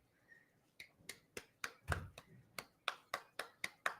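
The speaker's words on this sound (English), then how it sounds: "Can I get a hand clap for myself?" Hand clapping by one person in a Brooklyn radio studio: about a dozen crisp, separate claps in a steady, slightly uneven rhythm, close but fairly quiet, with a brief voice near the start.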